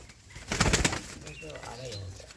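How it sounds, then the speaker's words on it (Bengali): A pair of Kalshira pigeons gives soft low cooing after a brief burst of rustling or wing movement, close and fairly quiet, with a voice talking faintly in the background. "একজোড়া সুন্দর কালশিরা পায়রা আছে"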